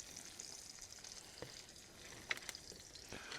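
Quiet, steady sizzling of an egg frying in a pan on a Camplux FG01AR portable camp stove, with a few soft clicks and scrapes.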